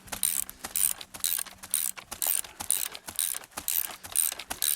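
Spring compressor being tightened onto a car shock absorber coil spring, giving a steady run of rapid ratcheting clicks, close and fairly loud, with brief pauses between strokes.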